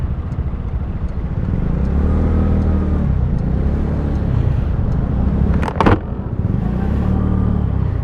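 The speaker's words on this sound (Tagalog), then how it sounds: "Traffic." Road traffic on the way to Taytay Tiangge, recorded up close, with a constant engine rumble, vehicles swelling and fading as they pass, and a brief sharp burst just before the six-second mark.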